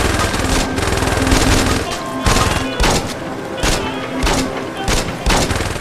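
Rapid gunfire bursts in the video game Saints Row 2, loud, repeated volleys of shots and booms in close succession with short gaps between them.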